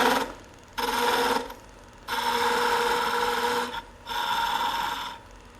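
Skew chisel cutting a wooden Christmas ornament spinning on a lathe, close, harsh scraping bursts in three long passes separated by short quiet gaps.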